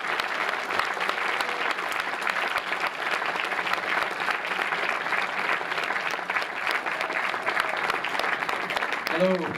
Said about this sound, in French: je crois qu'on peut l'applaudir bien fort